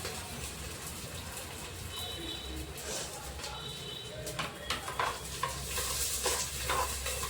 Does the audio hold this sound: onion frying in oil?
yes